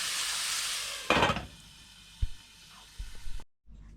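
Rocket leaves cooking down in a pan on a stove, giving a steady hiss and sizzle that fades, broken by a few knocks of a utensil against the pan.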